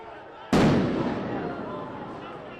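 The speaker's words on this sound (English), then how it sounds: "That firework, that explosion goes off, and Jennifer kind of doesn't even move." A single sharp firework explosion at a street protest in Seattle, a sudden loud bang that decays into a lingering rumble and echo over a low background of crowd noise.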